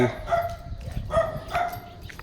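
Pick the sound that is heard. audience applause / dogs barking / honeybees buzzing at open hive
dogs barking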